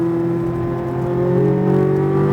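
A Chevrolet Corvette Z06 engine pulls hard on a race track, a loud, steady rising drone with strong harmonics climbing gradually under acceleration, heard alone without talk.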